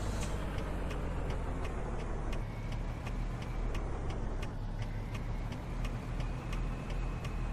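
A heavy truck in American Truck Simulator pulls out slowly with a lowboy trailer, its engine drone low and steady under a regular ticking click.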